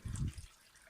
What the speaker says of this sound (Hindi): 1 गिलास मैंने पानी डाल दिया।